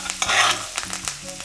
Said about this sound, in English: Go ahead and baste it a little bit.